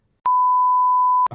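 A single steady censor bleep, a pure electronic tone held for about a second, loud and isolated, with a brief bit of sound cut off at the end.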